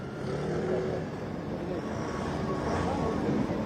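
An airplane at Istanbul airport after landing gives off a steady, broadband engine roar and rumble that holds at an even level throughout, with faint background voices mixed in.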